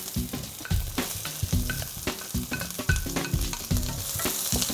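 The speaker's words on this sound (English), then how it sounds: "Saute the onion." Onion sautéing in an iCook wok, with a steady bright sizzle broken by repeated scraping and clattering stirs of a utensil against the pan, close and moderately loud, no voices.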